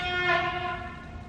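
A loud train horn sounds as a rich, sustained chord of steady tones, fairly near, fading slightly toward the end.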